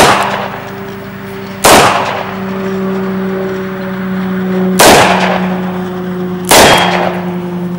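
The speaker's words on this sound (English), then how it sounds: "going to be shooting two 38 special rounds and two 357 rounds" Three loud, close gunshots, .38 Special and .357 rounds hitting body armor, each a sharp ringing crack followed by a sustained metallic ring that fades between shots.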